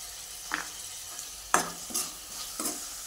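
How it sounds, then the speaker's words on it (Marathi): Chopped tomato being stirred in hot oil in a pan, a soft background sizzle broken by several scraping strokes of a spoon, close and fairly quiet, with no talk. "टोमॅटो पण चांगला 2 मिनिटं परतून घ्यायचा तेलामध्ये, मऊ होतो।"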